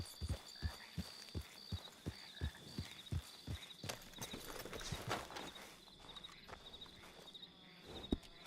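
Horse hooves clip-clop in a steady walking rhythm, close and clear, over a faint insect drone, then the steps grow looser and quieter with a final sharp knock.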